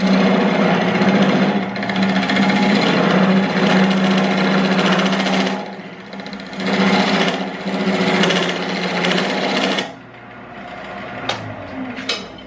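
A skew chisel cuts a square wooden bowl spinning on a lathe, giving a loud, steady whirring scrape with a strong hum that swells and eases in passes before dropping away near the end, leaving only a few faint knocks.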